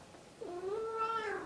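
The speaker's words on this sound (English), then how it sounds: "You can just meow for my audience." A pet cat gives a single drawn-out meow, rising and then falling, close by and clear against a quiet room.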